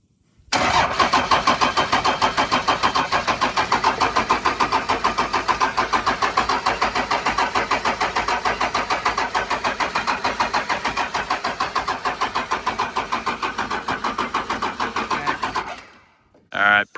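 A first-generation Cummins diesel engine cranks steadily for about fifteen seconds, a loud, rapid, even rhythmic chugging that never catches, then stops abruptly before a brief final burst; a voice can be heard.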